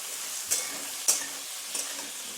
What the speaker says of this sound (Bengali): এরপর একটু লাল লাল করে এগুলো ভাজবো